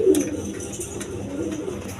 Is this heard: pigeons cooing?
yes